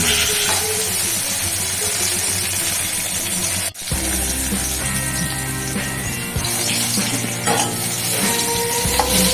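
Potato, pumpkin and cauliflower frying in a pan make a steady, loud, continuous sizzle with faint stirring clatter and one brief dip in the middle; no one speaks.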